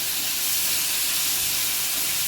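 Tomato sautéed with onion in a pan makes a loud, continuous sizzling hiss from start to finish, with no talking.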